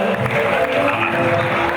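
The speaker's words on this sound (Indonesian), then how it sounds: "Luar biasa malam ini, tepuk tangan" Crowd applause at an evening ceremony for a handover of community organization officers, a short steady burst of many hands clapping, dense and fairly loud throughout.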